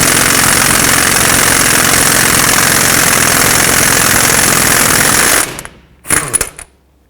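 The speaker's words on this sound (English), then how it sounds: "Let's remove the axle nut." Impact wrench hammering loose the axle nut on a 2009-2015 Toyota Prius with a 30mm 12-point socket: a loud, sustained rattling burst for over five seconds, then stopping abruptly, followed by a couple of short clanks.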